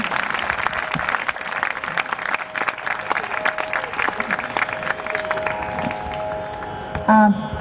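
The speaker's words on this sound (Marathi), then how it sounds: "एकदा टाळ्या वाजूया त्यांच्यासाठी" A crowd applauds steadily at a community gathering honouring senior citizens, dense clapping filling the room for several seconds.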